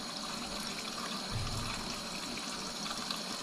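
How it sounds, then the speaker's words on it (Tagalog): Running tap water splashes steadily over mushrooms being washed, a close continuous rushing and trickling with a brief heavier splash partway through. "Hugasan lang natin to."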